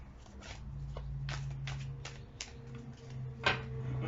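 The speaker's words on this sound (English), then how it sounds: "One more shuffle." Tarot cards are shuffled by hand in a quiet room: a run of short, soft riffling bursts in an uneven rhythm over a low steady hum, with no talking.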